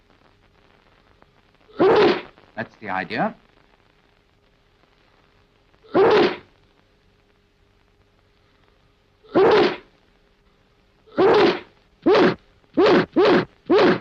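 A series of sharp sneezes, about eight bursts spaced irregularly and coming faster toward the end, loud and close amid near silence.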